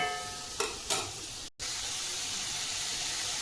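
Egg kothu masala with chilli powder sautéing in a pan for chappathi egg kothu, a steady close hiss with two brief scraping stirs early on, a split-second gap, then unbroken sizzling.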